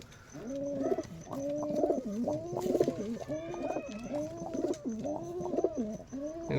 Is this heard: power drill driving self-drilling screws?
no